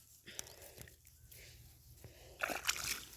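Soft sloshing and splashing of water flowing through a channel into a crop field, faint at first and growing louder near the end, with a few small knocks along the way.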